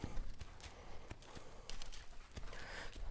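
A tall 16-3 to 17-hand, two-year-old horse walks on a tight circle, its hooves giving soft, irregular thuds and clops over faint outdoor background noise.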